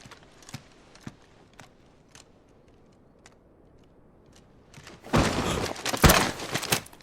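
Horse hooves in Final Fantasy 16: sparse, evenly spaced clip-clop taps, then a loud, dense burst of heavier clattering and thumping near the end.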